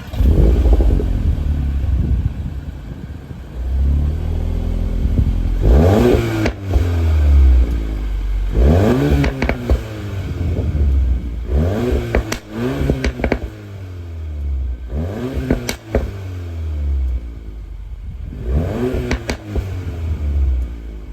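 A stock, unmapped VW Golf R Mk8 fitted with an Akrapovic exhaust revs hard in repeated bursts, each climb in pitch followed by a drop and crackling pops and bangs, loud and close with no talking.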